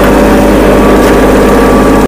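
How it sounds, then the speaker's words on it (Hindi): A Kubota mini tractor engine runs loud and close while reversing on a farm, giving a steady, dense diesel drone with constant rumble and no break until a sudden cut at the end. "अब ट्रैक्टर बैक करना है"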